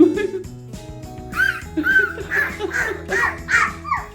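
A voice imitates a bird with a series of short, high, chirpy calls, with giggles and background sounds around them.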